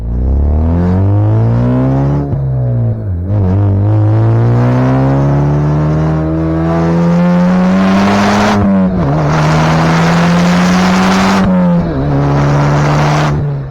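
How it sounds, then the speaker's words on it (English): A turbocharged Cadillac touring car accelerates hard, its engine note climbing steadily through gears with brief dips at each shift, loud and close, with whistling turbo whine and a fairly quiet exhaust. "There's a whole lot of turbo noise."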